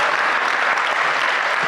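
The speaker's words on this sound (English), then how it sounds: "give them another round of applause" Audience applause for a gospel choir at a Martin Luther King Jr. commemoration service, a steady, dense wash of many hands clapping throughout, loud and close, with no talk over it.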